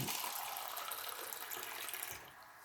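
Water gushes from a garden hose onto a potato, garlic and sweet potato bed, a steady close spray that softens slightly near the end.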